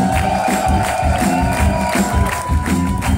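A concert crowd at La Maroquinerie in Paris cheers and shouts for an opening band from London at a show. The roar is loud, dense and sustained throughout, with whoops rising out of the noise.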